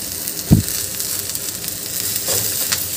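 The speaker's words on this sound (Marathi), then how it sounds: "इथे बघू शकता मी छान असं परतून घेतली आहे भाजी" Giloy (gulvel) vegetable stir-frying in a pan, a steady soft sizzle with one sharp spatula scrape near the start and a lighter stir later, no voices.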